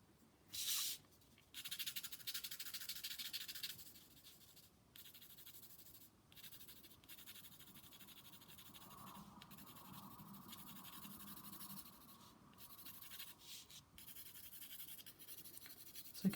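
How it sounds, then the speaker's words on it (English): A pencil scratches on paper while an eye is drawn, giving close, dry strokes that come in short repeated bursts, with small pauses between passes and no talk. "scratchy pencil."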